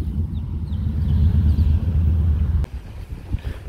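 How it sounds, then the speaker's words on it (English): A motorcycle passes close by in downtown Melbourne, Florida, with a loud, steady engine rumble that cuts off abruptly, leaving quieter traffic noise behind. "Motorcycle."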